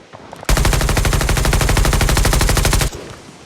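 Rapid automatic gunfire in Call of Duty Mobile, one loud sustained burst of evenly spaced shots lasting over two seconds, heard alone with no talk.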